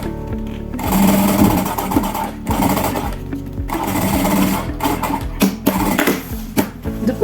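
A sewing machine stitches a strip of waterproof fabric trim onto a thermal lunch bag made from a milk carton, running close and loud in rapid mechanical bursts that stop and restart, with no speech.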